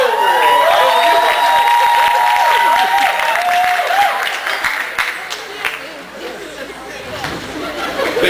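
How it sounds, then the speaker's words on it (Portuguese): Audience applause for a contestant at a Brazilian talent show, clapping mixed with loud chatter and scattered cheers, swelling then dipping before picking up again, with voices and shouting over it. "aplausos para Haroldo."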